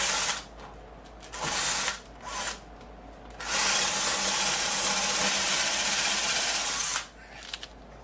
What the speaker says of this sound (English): I'm going to take this bolt here. And what I'm going to do is drive it down into the